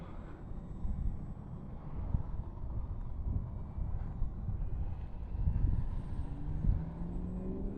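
An FMS F4U-4 Corsair RC plane on a 3-cell LiPo flies at about 60% throttle, a steady electric motor drone that swells and fades with gusty wind rumbling across the microphone.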